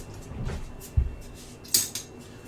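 Utensils clink against a bowl as a honey mustard salad with horseradish is stirred, with a few sharp close knocks and scrapes amid quiet handling.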